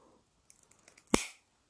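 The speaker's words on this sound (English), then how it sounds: "so I'll just cut off a piece" A few faint ticks and then one sharp, loud snip as a piece is cut off, quickly fading into silence.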